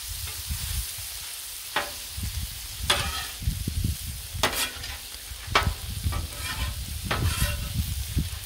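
Vegetables fry in oil on a Blackstone griddle for Cajun fried rice, with a constant close sizzle broken by repeated sharp metal spatula scrapes and clanks as the food is stirred.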